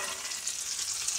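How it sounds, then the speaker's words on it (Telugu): Peanuts roast and rattle in a pan, giving a soft, close, continuous dry sizzle with faint scraping. "ఈ పల్లీలు అయితే కొంచెం వేయిస్తాను ఫ్రెండ్స్."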